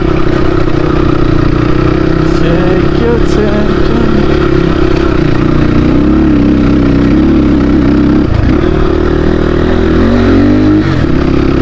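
A Crossfire RM 250 motorcycle rides along a muddy, slippery rural road, its engine droning loud and close throughout with uneven revving and rattling, while people talk over it.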